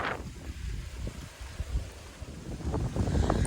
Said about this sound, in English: I'm glad the wind started blowing.